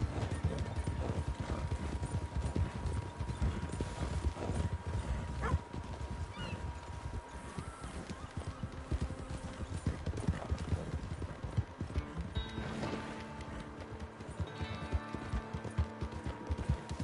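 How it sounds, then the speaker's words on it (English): Rapid, continuous hoofbeats of a galloping horse in Red Dead Redemption 2 run throughout, loud and close, with occasional mechanical clatter and a brief whinny in the mix. "Hey, Betsy, you see how that horse keeping up with the mission?"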